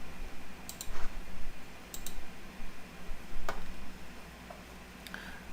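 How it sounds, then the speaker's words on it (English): Computer mouse clicks while picking colours with an eyedropper tool: about five sharp, isolated clicks, some in quick doubles, spaced a second or so apart over a faint steady room hum. "you have to keep on clicking on that."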